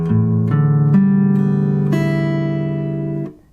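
Open strings plucked one after another on a left-handed Martin 000-15S mahogany-top acoustic guitar with old, stretched strings, each note ringing on and overlapping into a sustained chord that fades at the end.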